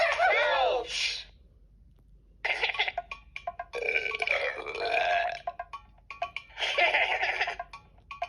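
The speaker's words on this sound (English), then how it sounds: "Belch is another word for burp." A cartoon burp from the Endless Alphabet word game, a long gurgling belch up front followed by giggly, bubbly cartoon noises and a few chirpy bursts, fairly close and clear.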